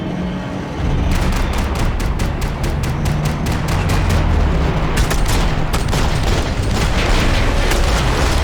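Rapid bursts of gunfire crackle in Max Payne 3, starting after a short lull and continuing as dense, loud volleys of sharp shots with booming impacts.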